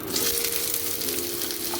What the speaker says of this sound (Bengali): আলুটা আমি দিয়ে দিচ্ছি কড়াতে।